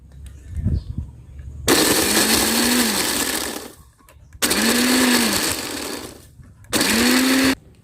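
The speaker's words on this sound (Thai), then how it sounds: "แล้วเราก็ปั่นเลยนะคะคุณผู้ชม" A blender whirs through fertilizer mixed with a little water in three loud bursts separated by short pauses, its motor whine rising in pitch as each run spins up.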